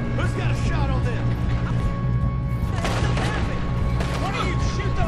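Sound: gunfire in the video game Red Dead Redemption 2

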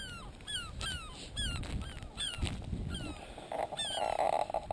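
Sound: panicking nesting birds

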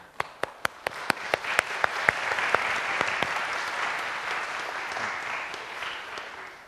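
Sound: audience applause for the teacher

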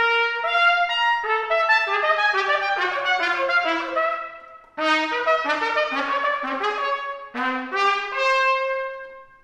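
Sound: valved trumpet playing its first three overtones

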